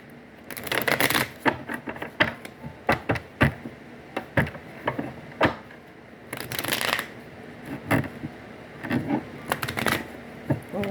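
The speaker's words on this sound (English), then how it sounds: "I'm gonna mix these cards up a little bit. Go ahead and shuffle." Tarot cards being shuffled by hand in repeated quick riffles and slaps, close and crisp, with short pauses between bursts.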